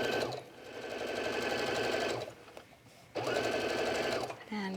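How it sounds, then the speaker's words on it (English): A sewing machine stitches around the body of a fabric fish-shaped beach bag, with two bursts of rapid, even mechanical chatter separated by a short pause, close and clear with no talking. "And then we'll just sew around the body of the fish."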